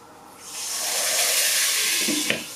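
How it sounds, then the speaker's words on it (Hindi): Water hits a hot pan of thin vermicelli frying for a sweet dry dessert, setting off a loud, sustained hiss of sizzling steam that swells and then fades, with a small clink near the end. "अब हमने इसके अंदर एहतियात से पानी डालना है।"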